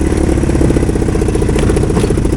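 A three-wheeler engine swapped into a golf cart runs loud and close after a hard gear shift, a steady low clattering throb with slight revving fluctuations, on a cold day after the machine sat unused for a long time.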